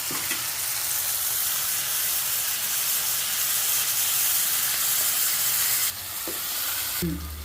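Mutton and radish gravy with an onion and tomato tempering stirred in hisses and sizzles steadily and loudly, then the sound shifts abruptly near the end as something is tipped in with a short clatter.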